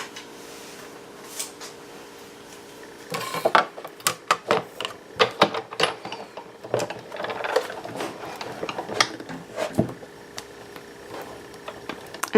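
Stampin' Up! die-cutting machine with a precision base plate, magnet and cutting platform, cranked by hand to cut leaves from rose red cardstock; bursts of clicking and ratcheting mechanical noise come close by, starting after a quiet opening, with no talk.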